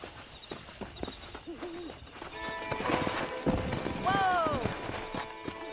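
Horse hooves clip-clop at a walking pace in the video game Red Dead Redemption, with a horse whinnying and a voice talking over the steps.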